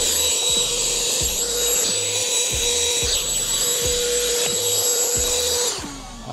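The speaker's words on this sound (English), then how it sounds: "We want to get our vacuum side of this just to mop out any, or not mop out, suck out any debris" A vacuum cleaner runs steadily and close while sucking debris out of an xTool F1 Ultra laser engraver, its whine and airflow joined by rhythmic scraping and rubbing of the nozzle, before the motor winds down at the end.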